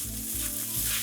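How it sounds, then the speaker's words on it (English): Leftover day-old rice frying over medium-high heat for chicken fried rice, a steady close sizzle with soft shifting pulses as the grains crisp and dry out. "we're going to just cook this on medium high for about 5 minutes while we get a lot of color"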